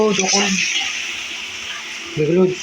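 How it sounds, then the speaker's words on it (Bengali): Water pours with a steady splashing hiss into a pot of chicken curry (murgi mangso) set to boil, with a voice briefly heard at the start and again near the end. "একসাথে সব দিয়ে এবার জল দিয়ে সেদ্ধ করি।"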